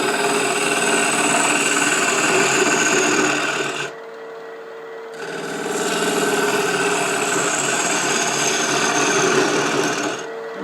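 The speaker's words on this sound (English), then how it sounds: "now we're going to start hollowing it out a little bit" Lathe tool hollowing out a spinning wooden box: a continuous close scraping, rasping hiss over a steady motor hum, breaking off briefly for about a second before the cut resumes and carries on.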